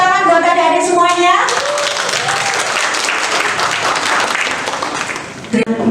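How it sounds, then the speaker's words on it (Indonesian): At a high school event, an audience of students breaks into loud, sustained applause after a short stretch of voice, with dense clapping filling the rest of the moment before a voice briefly returns. "Tepuk tangan buat adik-adik semuanya"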